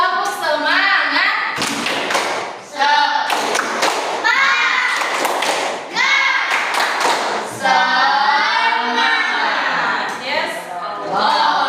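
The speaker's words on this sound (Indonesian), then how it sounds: "Biar makin semangat, kita terus semangat dulu yuk. Tepuk semangat." Schoolchildren in an Indonesian classroom perform a rhythmic spirit clap, loud patterned bursts of hand claps and thumps mixed with chanting and singing voices throughout.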